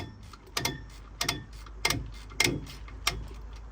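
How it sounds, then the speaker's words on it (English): A Scania truck brake being wound off, with the chain inside the caliper giving a series of sharp ratcheting clicks in a slow, even rhythm, close and fairly quiet. "So that is me winding the brake off. That's the chain inside the caliper."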